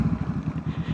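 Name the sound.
Honda CB500F motorcycle with Black Widow carbon tip exhaust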